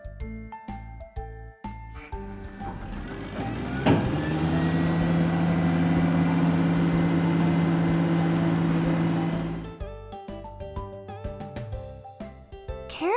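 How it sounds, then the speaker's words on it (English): A dump truck's engine drones in a steady low idle hum for several seconds, starting abruptly and cutting off, set against background music. "Dump truck."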